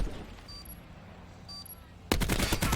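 Gunfire from a Call of Duty match in a professional CWL finals gunfight: a low ambient bed, then a sudden dense burst of rapid automatic shots in the last second, loud and close.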